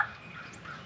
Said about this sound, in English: We got two turkeys left.